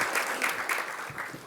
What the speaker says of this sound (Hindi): ज़ोरदार तालियों से हम उनका स्वागत करते हैं।